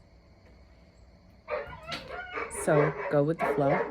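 A pet dog barks and whimpers at a neighbor's cat in a few short, whiny yelps late in the clip, partly under a person speaking nearby.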